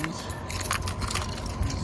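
A bunch of keys jangling in a Coachman Laser 665 caravan, a continuous close metallic rattle with small clinks over a low background hum.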